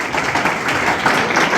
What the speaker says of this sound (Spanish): Dale ese aplauso al Rey, corra.